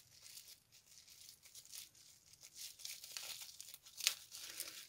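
Adhesive tape is peeled and torn while a gift is unwrapped, making quiet, close crinkling and tearing rustles in uneven bursts, with one sharper rip near the end.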